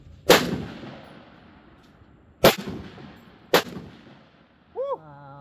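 A Ruger SFAR .308 rifle fires three sharp, loud shots at uneven intervals outdoors, each a hard crack followed by a short echoing tail, with a faint ringing tone near the end.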